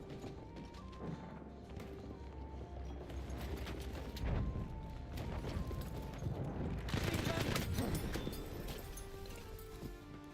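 Battlefield 1 multiplayer match filled with dense, continuous gunfire and scattered distant explosions, the shots cracking at a moderate level and growing heavier toward the end.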